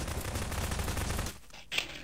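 Sustained gunfire from the game Prop Hunt, a dense, distant-sounding rattle of shots for over a second that stops, followed by one brief sharp report.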